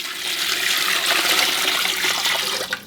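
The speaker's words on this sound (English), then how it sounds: "Now we're gonna cover it up about 2 inches above the chicken and mirepoix with cold water." Cold water pours steadily into a stockpot holding chicken and mirepoix for gumbo stock, a continuous close rushing splash that holds level for nearly three seconds with no talk over it.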